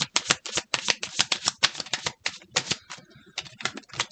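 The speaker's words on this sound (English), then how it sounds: "We'll do one more shuffle." Rapid clicking flutter of tarot cards being shuffled, a dense run of crisp snaps lasting a few seconds, close and fairly quiet.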